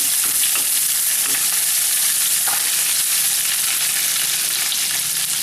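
Ginger fries and is stirred in a hot pan, giving a loud, continuous sizzle with occasional scraping stir sounds and no talk.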